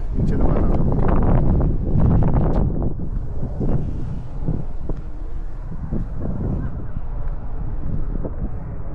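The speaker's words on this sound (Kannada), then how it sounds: "ಚಳಿಲ ಜಾಸ್ತಿ ಉಂಟು ಬಂಡ ಗಾಳಿ ಬೀಜ ಉಂಟು ಒಟ್ರಾಸಿ" Strong cold wind in foggy New Zealand winter buffets the microphone in a low, rushing roar while a person talks over it.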